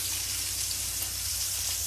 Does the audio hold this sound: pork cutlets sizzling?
yes